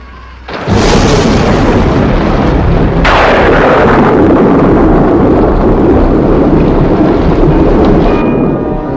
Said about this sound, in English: I've heard of these freak storms.